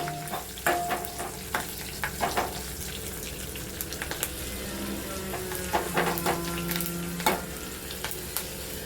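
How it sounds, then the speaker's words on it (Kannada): Green chillies frying in a pan for a wild mango mustard curry, a steady close sizzle with repeated stirring clatters and scrapes throughout, no talking. "ಕಮ್ಮಿ ಹಸಿಮೆಣಸಿನ್ಕಾಯಿ ತೊಗೊಂಡಿದ್ದೀನಿ. ಸ್ವಲ್ಪ ಫ್ರೈ ಆಗಲಿ."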